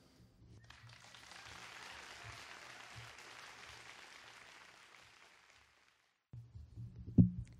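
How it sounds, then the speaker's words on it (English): Applause from a live literary reading audience, a steady wash of clapping that builds and holds for about five seconds before fading, followed by a brief low thump and rustle. "Let's give all our readers a big round of applause."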